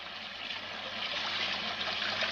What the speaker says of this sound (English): turn the water off